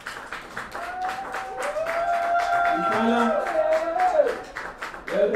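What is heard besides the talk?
audience applauding a team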